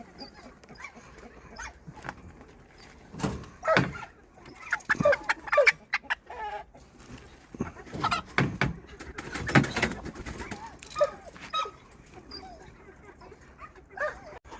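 Chickens settling into a new coop cluck and squawk in scattered bursts, with a dog barking and some door knocks around them, and quiet voices in the background.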